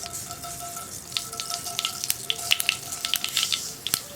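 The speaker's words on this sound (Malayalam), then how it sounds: "നമുക്കിതിലേക്ക് ആദ്യം കടുക് ചേർത്ത് കൊടുക്കാം." Mustard seeds crackle and pop in hot coconut oil in a pan, a faint scatter of sharp sizzling ticks that grows busier over a few seconds.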